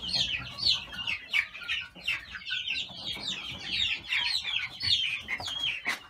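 Many chickens and a rooster in a chick coop, including Denizli and naked-neck birds, cluck and chirp continuously and fairly close, a dense overlapping chatter with no talk.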